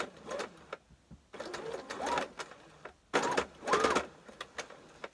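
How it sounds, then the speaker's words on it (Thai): A sewing machine stitches fabric for a blouse in short bursts of rapid whirring separated by brief pauses, close and fairly quiet. "เวลาเย็บก็สอดผ้าเข้าไปข้างหลังจัดผ้าให้ดีๆจะได้ไม่เย็บติดกัน"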